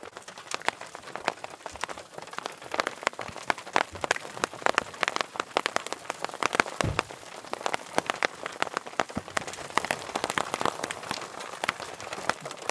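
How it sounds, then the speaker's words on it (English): Hail and rain come down on a Wyoming campsite during a Labor Day weekend camping trip, a dense, steady patter of sharp drops and small pellet clicks striking surfaces throughout, with no talk. "Starting to get some hail coming down. You can hear it."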